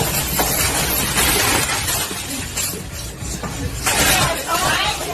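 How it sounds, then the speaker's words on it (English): A woman panicking smashes things at an ATM, giving a loud dense crashing and shattering din with glassy breaking, steady for several seconds and swelling near the end. "she responded by panicking and smashing things around her"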